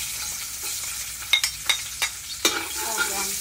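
Golden-brown food frying in leftover oil in a pan, with a soft continuous sizzle broken by several sharp utensil clinks and scrapes as it is stirred.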